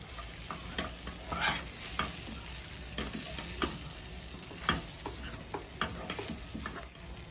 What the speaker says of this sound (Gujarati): સરસ રીતે બધો મસાલો મિક્સ થઈ જાય ત્યાં સુધી આપણે એને મિક્સ કરતા રહેવાનું છે